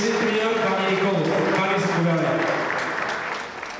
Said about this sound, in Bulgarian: Аплодисменти за Калина Маринова и личен треньор Ваня Николов.